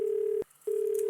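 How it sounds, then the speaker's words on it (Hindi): Telephone ringback tone heard while a call is being placed: a steady, clear electronic tone cuts off for a brief pause and then resumes, with no voices. "रिंग तो जा रही है।"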